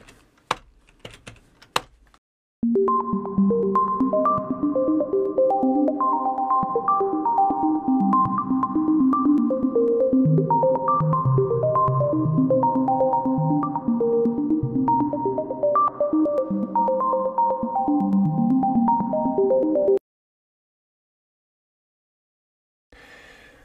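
Randomized synthesized tones from a ChucK program, short pitched blips with random decay stepping every 125 milliseconds in a rapid, even stream of varying notes for about seventeen seconds, then abrupt silence.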